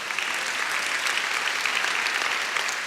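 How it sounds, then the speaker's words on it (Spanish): A church congregation applauds during a Spanish-language sermon on the Lord's prayer for future believers, a steady, dense wash of many hands clapping together at a constant level throughout, with no voices above it. "Dele palmas al Señor por ello."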